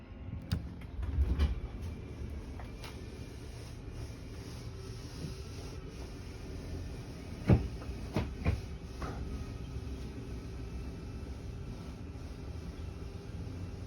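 A Forest River Flagstaff Super Lite travel trailer's slide-out (slide number 2) retracts with a steady low mechanical rumble and drone, broken by a few sharp clunks and knocks near the middle of the run.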